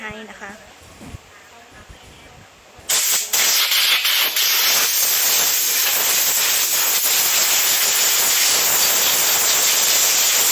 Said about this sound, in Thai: เดี๋ยวเราจะได้จัดการเป่าฝุ่นทำความสะอาด